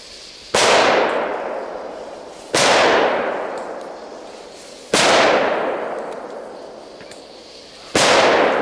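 Big firecrackers exploding outdoors during a fireworks session, four loud separate bangs at regular intervals of about two and a half seconds, each trailing off in a long echoing decay.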